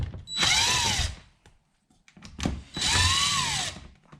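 A cordless power drill backs screws out of a plastic boat seat base in two close, loud whirring bursts that rise in pitch, with brief clicks and handling noise between them.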